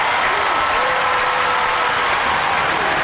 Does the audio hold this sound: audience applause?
yes